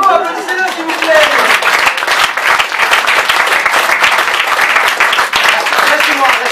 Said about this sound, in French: bravo, applaudissez-le s'il vous plaît